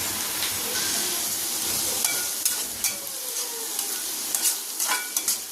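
Sliced onions sautéing in a pan for a dry fish curry, a close, loud sizzle that settles into quieter frying with intermittent spatula scrapes and taps against the pan.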